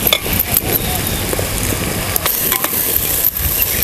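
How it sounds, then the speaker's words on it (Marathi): Chopped ingredients for tangy raw-mango rice sautéed and stirred in a pan, with a steady sizzle and scraping stir strokes, near and fairly loud, under someone talking. "एक 5 मिनिट आपण परतून घेऊया."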